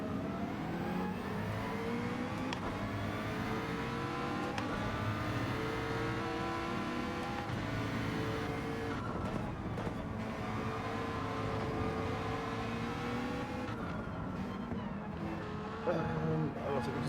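A Lamborghini racing in Gran Turismo 7 on the Nordschleife, its engine revving through rising and falling gear sweeps, steady and moderately loud, with a voice talking over it.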